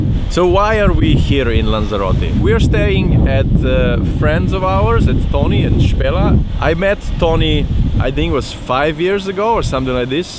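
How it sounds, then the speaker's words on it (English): Someone talks steadily while gusts of wind buffet the microphone on the coast of Lanzarote, producing a constant low rumble beneath his voice. "I'm sorry about the wind, there's not much I can do."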